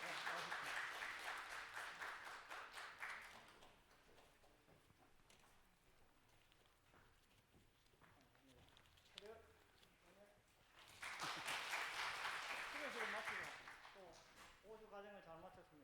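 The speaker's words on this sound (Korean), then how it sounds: "새가족 나오실 때까지 큰 박수 부탁합니다" Bursts of congregational clapping at a Korean church Sunday morning service for new members, loud at the start and again near the end, with a quieter stretch of murmuring and a speaking voice between.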